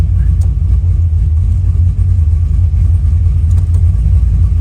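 A 1971 Chevelle with a modified TH400 transmission driving, heard from inside as a loud, steady low engine rumble and road drone that fills the whole stretch.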